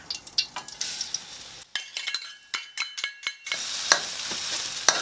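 Garlic fries in oil in a pan with a steady close sizzle, broken midway by a few sharp stirring clinks of utensil on metal before the sizzle swells back.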